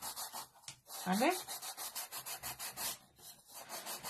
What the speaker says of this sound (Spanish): vamos a pasar la lija justo por donde pasamos nuestro cúter